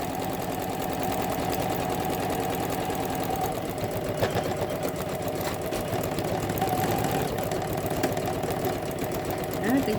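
A Janome Memory Craft 10001 embroidery machine stitches out a scarecrow design, giving a steady rapid mechanical chatter with even rhythm throughout, close and continuous with a faint hum underneath.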